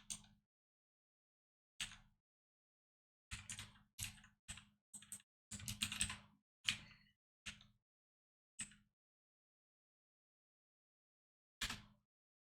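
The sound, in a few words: typing on a computer keyboard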